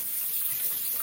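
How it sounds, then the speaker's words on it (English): Tap water runs steadily in a kitchen sink as hands are rinsed during home cooking, a soft, even hiss with no other sounds. "I'm going to rinse my hands"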